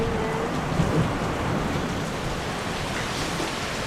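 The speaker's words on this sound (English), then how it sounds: "Look at the rain pouring there." Heavy rain pours steadily onto a sailing boat out on the North Atlantic, a dense, even hiss of drops drumming on the deck and gear without a break.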